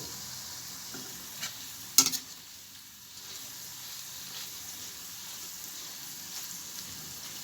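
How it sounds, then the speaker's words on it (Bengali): Potato peels frying in oil make a soft, low sizzle with a sharp clatter of stirring around the second mark, then a quiet continuous crackle alone. "তো সেই জন্য তেলটাকে দেখুন ভাজা হচ্ছে।"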